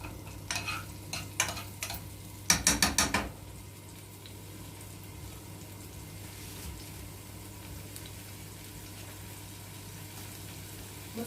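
A spoonful of food frying in oil in a pan, opening with several quick metallic clatters of a spoon, then settling into a soft, steady, quiet sizzle with no one speaking.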